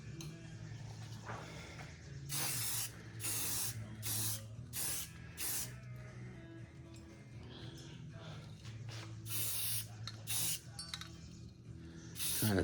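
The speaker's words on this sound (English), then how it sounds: "then we can spray this other piece that sticks out." Aerosol spray paint hissing in repeated short bursts onto a piece hung through a drilled hole in a workshop, close and fairly loud, with pauses between sprays and low background noise.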